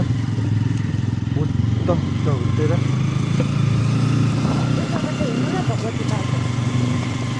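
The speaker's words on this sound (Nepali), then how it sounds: "त्यसरी बाइक आउँछ उतातिरबाट" A motorcycle engine rumbles steadily nearby with traffic noise around it, and a horn-like tone and a brief voice come through over it.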